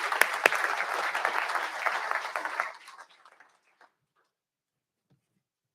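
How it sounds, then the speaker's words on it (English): An audience at an Army energy event in downtown Austin applauds a lieutenant colonel, steady dense clapping for under three seconds that thins out and fades to near silence, with one faint late clap. "round of applause for Lieutenant Colonel Vilsenor"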